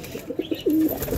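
Pigeons kept as pets for racing give soft close coos, a few short notes followed by one longer drawn-out coo, quiet and alone.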